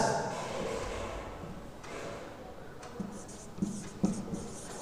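Someone writes on a board during a grammar lesson, making scratchy strokes and a few sharper taps, close and fairly faint.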